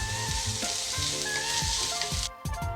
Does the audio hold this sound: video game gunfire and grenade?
no